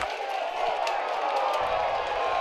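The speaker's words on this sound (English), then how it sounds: "Crowd's into it from the get-go." At a college baseball game between Alabama and Oklahoma, a stadium crowd keeps up a steady, broad roar of cheering, with scattered whoops and claps, dense and continuous throughout.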